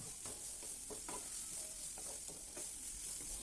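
Carrot poriyal stirred in a nonstick pan over a medium flame, a quiet hiss under a run of soft scraping spatula strokes at an uneven pace, close and low in level, no speech.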